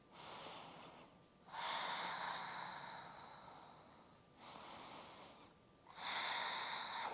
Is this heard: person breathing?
yes